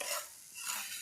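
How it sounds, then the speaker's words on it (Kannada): Spices being dry-roasted and stirred in a pan for puliyogare powder, a short close scraping stir with a light sizzle, rising and falling in two strokes within a second, no voices. "ಗೋಲ್ಡನ್ ಕಲರ್ ಬರೋ ತನಕ ಚೆನ್ನಾಗಿ ಹುರ್ಕೊಳ್ಳಿ."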